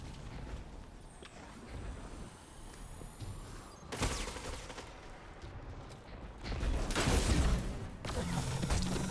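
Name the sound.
machine gun fire in Destiny 2 video game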